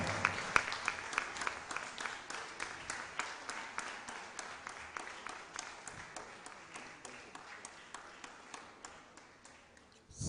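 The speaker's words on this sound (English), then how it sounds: "A louder round of applause." A room full of people at the National Library of Nigeria in Abuja claps steadily for about ten seconds, the applause fading slightly toward the end.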